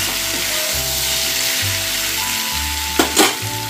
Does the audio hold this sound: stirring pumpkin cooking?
yes